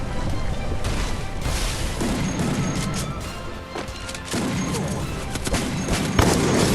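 Loud, chaotic gunfire and grenade booms from a Free Fire firefight, with several heavy blasts layered over continuous shooting.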